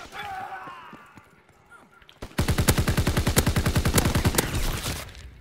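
Rapid bursts of automatic gunfire in Call of Duty: WWII, a World War II shooter, break out after a quieter stretch of faint ambience, with loud, close, evenly spaced shots running for about three seconds.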